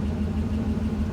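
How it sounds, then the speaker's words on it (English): An off-road vehicle's engine idles steadily after a muddy run, a low, even rumble held close and constant throughout with no voices. "And it's idling."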